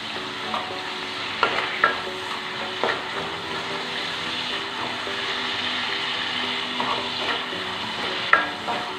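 Tomato and vegetables sauté in a pan for a fish curry, a steady moderate sizzle broken by intermittent scraping strokes of a spoon.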